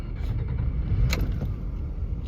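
Car engine running steadily at idle after a roadside sensor repair at a border crossing in no man's land, a continuous low rumble with no one speaking.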